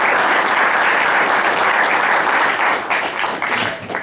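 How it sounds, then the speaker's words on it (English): An audience applauds warmly for a speaker, a dense, loud, continuous clapping that thins slightly near the end. "give a warm round of applause to Ulysses Butch Slaughter"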